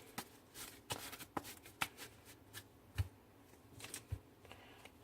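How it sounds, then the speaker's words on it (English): A deck of trading cards for the Cardfight!! Vanguard game being shuffled by hand, a run of quick crisp riffles and taps at close range, irregular and fairly quiet, with no one talking. "Shuffle your deck."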